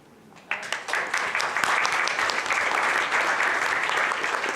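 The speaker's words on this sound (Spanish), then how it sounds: "quiero subrayar y pedir un aplauso para ATI" An audience at an Argentine book event bursts into applause, starting suddenly and holding as a dense, even wash of clapping from a room of people.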